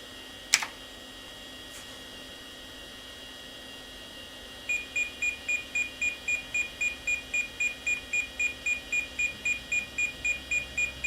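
An old computer with a Paradise Basic VGA card runs a system speed test; after a single click, a steady train of short, evenly spaced high beeps repeats rapidly over a faint background hum.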